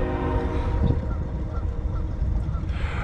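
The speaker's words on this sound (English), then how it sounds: "Oh, there's the train." Train rumbling past near a lakeside spot with a low horn blast partway through, a continuous heavy rolling noise at moderate distance.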